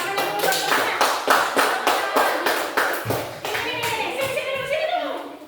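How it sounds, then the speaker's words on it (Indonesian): Schoolchildren clap in rhythm for a classmate, a run of sharp, evenly spaced hand claps close by, giving way to children's chatter toward the end. "tepuk tangan dulu buat temannya"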